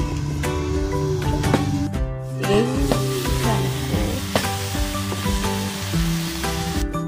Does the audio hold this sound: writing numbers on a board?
no